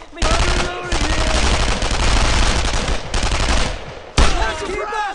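Sustained automatic gunfire and rapid shots from a World War II shooter game, Brothers in Arms: Road to Hill 30, loud and dense with brief gaps, plus shouted voices and a sharp burst near the end.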